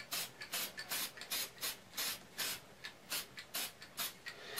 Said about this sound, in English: I don't want to have to sand off any more than I absolutely have to